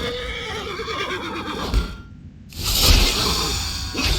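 A horse in World of Warcraft neighs loudly up close with a long shrill whinny, then briefly goes quiet before more whinnying, clip-clopping hooves and swishing sounds follow.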